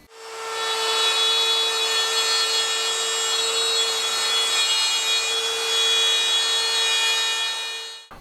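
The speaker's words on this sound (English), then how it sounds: "I just need to cut it to width and to length." A power saw cuts quarter-sawn veneered 1/4 inch plywood to size, holding a steady, loud whine with a ringing tone for about eight seconds without a break.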